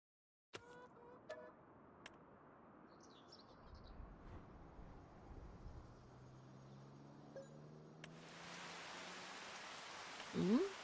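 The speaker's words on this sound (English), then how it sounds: "Ooh, some rain." Rain in the farming game Farming Simulator 25, a steady, fairly quiet patter with occasional bird chirps, growing louder and broader near the end.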